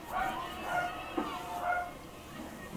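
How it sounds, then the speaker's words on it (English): A dog barks in the distance at squirrels, a few faint, scattered barks beneath a steady background murmur of a room. "Dog just going crazy. Barking at squirrels."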